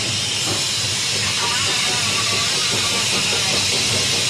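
A steam rotary snowplow on Switzerland's Bernina railway gives off a loud, continuous hiss of escaping steam, heard up close with faint mechanical rattling underneath.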